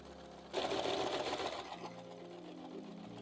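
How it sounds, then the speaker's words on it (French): A sewing machine stitches fabric and lining together for a handbag, starting abruptly into a fast, steady mechanical whir close by, which eases slightly and continues at a lower level. "je viens coudre tout autour à 8 mm du bord comme je l'ai expliqué"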